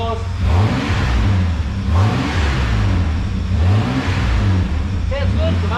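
A Holden VR ute fitted with a front-wheel-drive Pontiac engine, its exhaust holed, revs steadily and loudly nearby with rising and falling engine pitch while someone talks over it.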